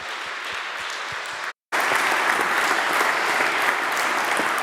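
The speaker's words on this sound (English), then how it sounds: "Give her a big applause." Audience at a TEDx 2021 event at Martin Luther University applauding, a dense, steady wash of clapping hands that cuts out briefly and then resumes just as loud.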